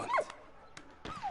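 A dog in the video game Valiant Hearts gives a few short, yippy barks and whimpers in separate bursts, near and moderately loud, with quiet gaps between them.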